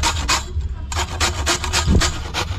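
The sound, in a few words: grating potato on a fine grater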